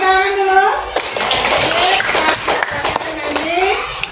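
Children clap together in a classroom, a bright, busy patter of small hands that starts abruptly and continues for a few seconds, with a voice heard at the start and again at the end.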